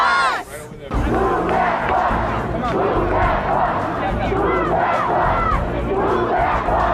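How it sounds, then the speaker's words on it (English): A large crowd lining a street roars and cheers together as a new house is revealed to a family, a loud sustained mass of voices and shouts after a brief quieter moment at the start. "we have thousands of people that line the street and everyone's just cheering"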